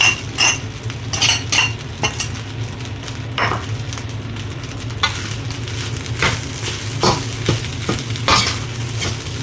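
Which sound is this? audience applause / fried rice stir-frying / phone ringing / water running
fried rice stir-frying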